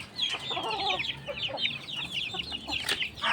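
Hens and their six chicks cluck and peep in a backyard farm, a busy overlapping chorus of high chirps and soft clucks running steadily throughout, fairly close.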